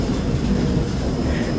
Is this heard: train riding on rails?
yes